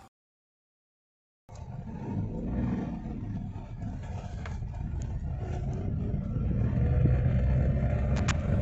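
Hyundai Eon with a check engine light and a jerking, power-dropping fault, driven on a test drive: steady engine and road rumble starting after a silent second and a half, growing slightly louder, with no talk.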